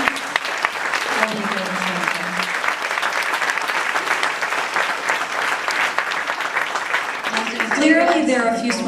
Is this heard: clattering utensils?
no